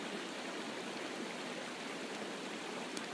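Steady, even rush of falling water from a waterfall, broadband and unbroken at a moderate, fairly faint level, with no voices over it.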